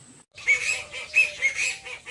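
Ducks quack in a quick series of nasal, honking calls at close range, several bursts over a couple of seconds with no talking.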